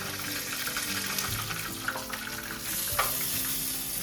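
Steady sizzling of wontons frying in hot oil, continuous and fairly quiet, with a few faint clinks and stirring noises.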